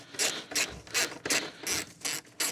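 Ratchet spanner backing out T25 Torx bolts on a Vauxhall Corsa D during a thermostat change, a quick run of about seven bursts of rapid metallic clicking, close and fairly quiet.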